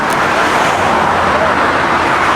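A car pulls up for hitchhikers on a roadside in Saudi Arabia, with a loud, steady engine and road rumble mixed with wind and traffic noise all the way through.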